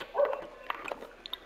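Short yips and whimpering dog sounds from The Sims 4, with a couple of faint barks, quiet and fairly distant, no speech over them.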